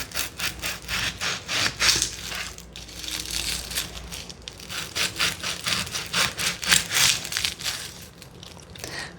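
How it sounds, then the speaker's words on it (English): A knife repeatedly cuts through red onion on a chopping board, giving close, crisp rhythmic crunches and scraping strokes that run steadily and alone with no voice. "So I just need a little bit of that, diced up quite finely."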